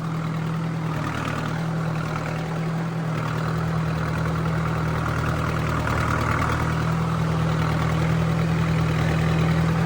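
New Holland tractor engine idling steadily at about 1300 rpm with third low gear engaged, a continuous loud diesel drone with a strong low hum running evenly throughout.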